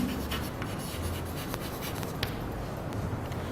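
Chalk or marker scratches steadily across a board in a classroom, a continuous dry rubbing with small sharp ticks, close and fairly quiet, with no talking.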